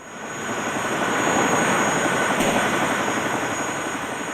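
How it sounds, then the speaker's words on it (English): A Vietnamese helicopter flies off empty after dropping its load of rice, its steady rotor and engine roar swelling quickly and then holding loud and broadband throughout, with no voices over it. "the Vietnamese helicopter drops its load of rice and flies off empty"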